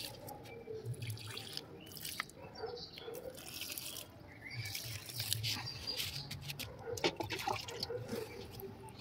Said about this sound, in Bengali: সকালে দিয়ে দিচ্ছি গাছে জল।